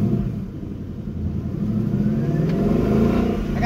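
A 2019 Ford Mustang's Gen 3 Coyote V8 revs up steadily during a dyno pull, a close, loud, continuous engine roar rising in pitch across the run with no talk.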